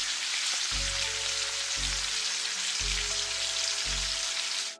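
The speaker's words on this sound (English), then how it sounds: "You might love the sound of bacon sizzling in the pan." Bacon sizzles in a frying pan with a steady, dense crackle that holds evenly throughout, while soft low thumps pulse underneath at regular intervals.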